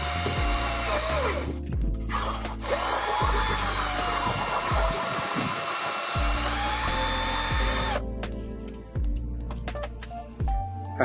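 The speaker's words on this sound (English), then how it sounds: "get the drill bit for the M8 repair, and we'll put it in our drill" A power drill bores a hole for an M8 thread repair in a stripped sway bar mount on a Subaru Forester, loud whining bursts with the motor spinning up and dropping off repeatedly at close range.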